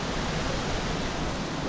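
Steady, dense roar of water pouring over a waterfall, heard from right at its top on a bike-packing trip in Morocco, a constant broadband rush with no breaks and no voices.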